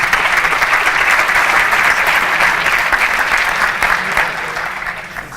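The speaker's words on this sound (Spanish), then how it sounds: "Un fuerte aplauso para Francisco Pérez Bes, por favor." A conference audience claps loudly to welcome a speaker at a cybersecurity regulation talk, a dense, continuous burst of applause that tapers slightly toward the end.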